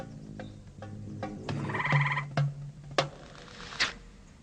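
A series of odd croaking and chuckling frog calls in a garden, some tonal and buzzy, others short clicks, fairly close against a quiet background.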